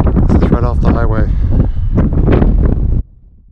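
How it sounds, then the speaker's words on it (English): Strong wind beside a highway buffets the microphone with a loud, steady rumble for about three seconds, then drops suddenly to a faint hiss. "This one's going to be windy, so I'll turn the volume off."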